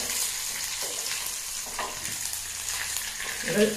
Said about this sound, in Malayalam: ഉലുവ നന്നായി മൂത്ത് വരുമ്പോൾ കറിവേപ്പില ഇട്ട് നമുക്ക് കറിയിലേക്ക് ഒഴിക്കാം